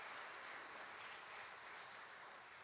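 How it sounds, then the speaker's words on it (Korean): A church congregation breaks into steady applause, a dense, even wash of clapping that holds at a distance for a couple of seconds with no voices on top. "이분들을 위해 다시 한번 감사의 박수 한번 합니다."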